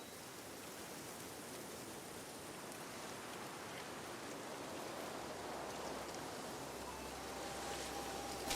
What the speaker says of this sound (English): How does this world have such sporadic and dangerous rain?